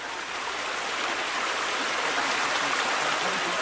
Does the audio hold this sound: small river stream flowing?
yes